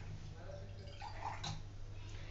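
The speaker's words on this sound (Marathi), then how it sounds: "1 ग्लास पाणी टाकले मी" Water poured from a glass into sugar in a pan for syrup for motichoor ladoo, a soft steady splashing stream close by with faint background hum.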